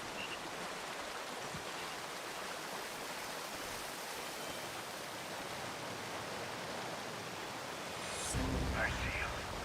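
Steady broadband rush of a waterfall inside the video game Call of Duty: Ghosts, a constant wash of falling water with a louder swell near the end and faint voice energy underneath.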